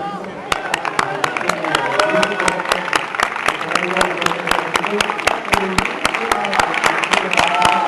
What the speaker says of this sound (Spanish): ¿Por qué no les aplauden?